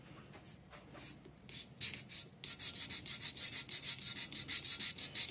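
Bore cleaner brush scrubbing carbon out of an old C-10's engine valve guide, a close, rhythmic rasping in quick repeated strokes that grows steadier and louder after a quieter start.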